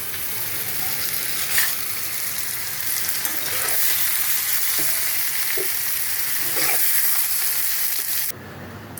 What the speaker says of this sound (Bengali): এখন কড়াইতে তেল দিয়ে দিয়েছি, তেলটা গরম হয়ে গেছে, এর মধ্যে আমি শুকনো লঙ্কা তেজপাতা একটা ছিঁড়ে দিলাম